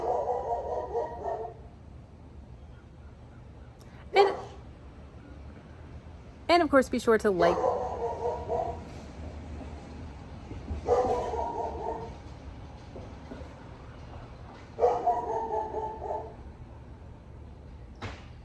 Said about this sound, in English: that dog is not gonna stop barking